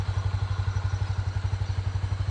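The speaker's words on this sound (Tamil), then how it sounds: "ஐடியலில் வண்டியோட இன்ஜின் சவுண்டு எப்படி இருக்குன்னு பாருங்கள்." A Honda CB300F motorcycle engine idles nearby, a steady, even run of low thumping pulses with a faint mechanical clatter over it, loud and unbroken, no talking.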